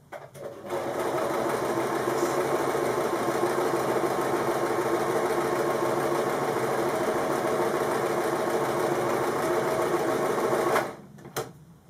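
A sewing machine stitches a quarter inch seam on patchwork fabric for an origami candle mat, a steady close mechanical whir with fast needle chatter running unbroken for about ten seconds before stopping.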